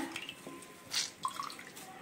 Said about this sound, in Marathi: हा भिजवून पूर्ण असा पिळून घ्यायचा